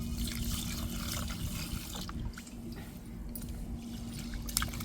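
Soaked raw rice being washed by hand in water for Tamil-style appam batter, a steady close slosh and trickle of water with a faint constant hum underneath, no talking.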